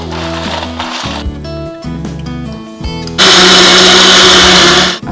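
A blender grinds roasted nuts with multigrain powder, running loud and close in a few jerky bursts with brief pauses and rattling, then switching into a sustained, even higher-pitched whirring roar that holds until the end.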